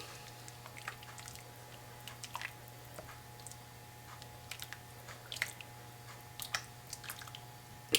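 Milk and cream mixture stirred into crockpot potato cheddar soup, with soft wet squishes and light scraping clicks scattered over eight seconds under a steady low appliance hum, fairly quiet and with no talking.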